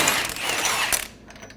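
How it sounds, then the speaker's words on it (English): A ratchet with a 36mm socket loosens the axle nut on a 2003-2008 Honda Pilot, a brief burst of metallic clicking close by that fades out at the end. "remove the axle nut."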